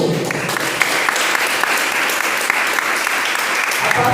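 A church congregation applauds at a Portuguese-language family worship service, giving dense, sustained, fairly loud clapping that holds evenly throughout, with no distinct talk.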